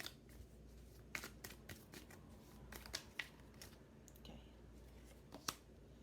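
Tarot cards shuffled and drawn during a reading, with quiet papery riffles and a series of sharp, close card snaps and clicks spread irregularly across the moment.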